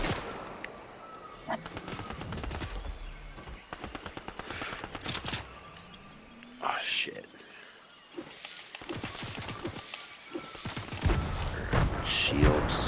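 Video game gunfire: rapid automatic bursts and scattered single shots crack nearby and farther off across a firefight, with pauses between volleys and people talking over the shooting.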